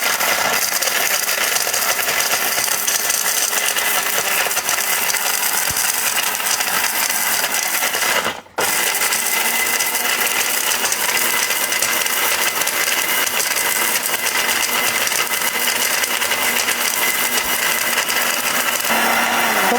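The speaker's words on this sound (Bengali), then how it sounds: "দেখাই আমরা হলুদের গুঁড়াটা হয় কিনা" A small 1200-watt blender jar grinds turmeric steadily and loudly at close range, with one brief cutout partway through before the motor roars back on.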